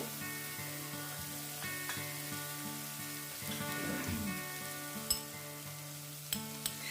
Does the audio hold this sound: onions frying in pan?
yes